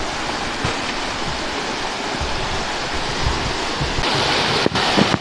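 A river and spring-fed pool flow in a steady, close broadband rush of water, with a brief knock near the end and no voices.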